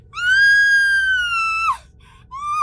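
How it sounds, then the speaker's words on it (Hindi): A woman's loud, sustained scream rings out alone for about a second and a half in a horror audio drama, breaking off sharply, followed by a brief softer cry and the start of another shriek. "वो देखकर मैं जोर से चीख पड़ी"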